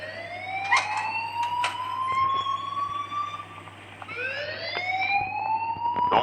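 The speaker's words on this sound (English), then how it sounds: "please turn off that alarm since that's your job" A fire alarm rings in Life is Strange, a loud electronic tone sweeping upward again and again, with sharp clicks marking each cycle and a steady hum underneath and no talk.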